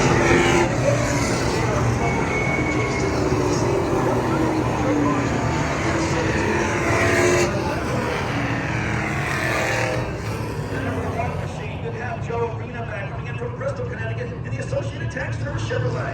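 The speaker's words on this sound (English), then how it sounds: "That number 85 machine is Chief Perry behind the wheel." Race truck engines roar continuously at Thompson Speedway, a dense, loud blend of revving motors under an announcer's steady commentary throughout.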